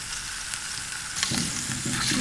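Meat frying in a pan with ginger, ras el hanout, black pepper and salt, giving a loud, steady close sizzle that grows busier near the end as it is stirred, with no talk.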